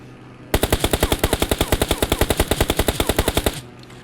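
Enemy automatic gunfire in PUBG Mobile, a loud, close, unbroken burst of about three seconds with evenly spaced rapid shots and no talk.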